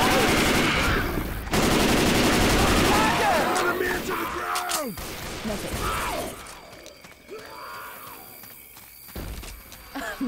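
Rapid gunfire against the Witch in a Left 4 Dead 2 versus match on the Swamp Fever campaign, loud bursts and mechanical clatter packed into the first half, then thinning out amid shouting voices and game noise.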